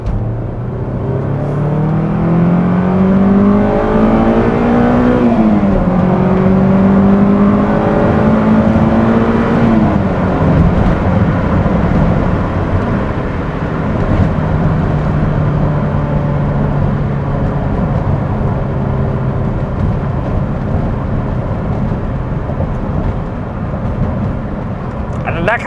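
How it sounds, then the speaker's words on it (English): A Honda S2000 fitted with an aFe Takeda cold air intake revs hard with the top down, giving a loud, continuous engine roar that rises and falls in pitch with strong induction noise across the whole stretch. "having a more open airbox introduces much more induction noise"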